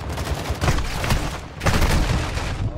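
Dense, loud exchange of gunfire in the Call of Duty DMZ video game, with rapid overlapping shots and two heavier bursts over a few seconds, and no speech.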